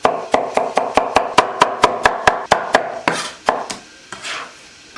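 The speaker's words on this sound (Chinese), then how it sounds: "柿子剁碎调汤。" A knife chops tomatoes on a wooden board in a home kitchen: about a dozen sharp, evenly spaced chops, loud and close, then a few slower scraping strokes at the end.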